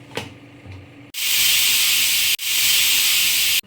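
A pressure cooker cooking tomatoes and drumstick pods lets out loud, steady jets of hissing steam, two long sustained bursts separated by a brief break after some quiet kitchen clatter.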